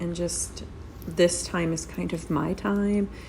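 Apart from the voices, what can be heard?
No distinct noise like a dog, phone or traffic.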